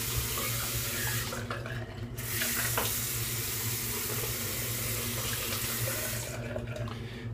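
Water runs steadily from a bathroom tap while wetting the face before a shave with a razor, a continuous close splashing hiss with brief drops in flow, no talking.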